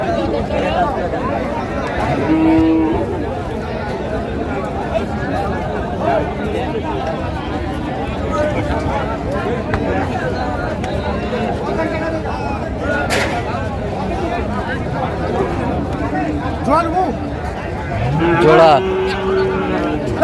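Cattle moo at a cow market in Rangpur, with a couple of clear, nearby lows standing out over continuous crowd chatter and people haggling.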